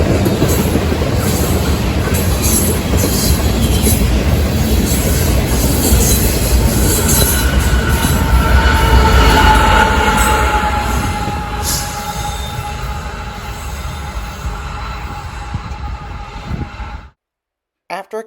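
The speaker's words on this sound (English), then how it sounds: "we would then find a Kansas City Southern ES44AC pushing on the back of the ethanol train as an end-train DPU" A Kansas City Southern ES44AC locomotive shoves an ethanol train from the rear as a DPU, a long loud steady rumble of rolling cars with faint squealing wheels, fading out near the end.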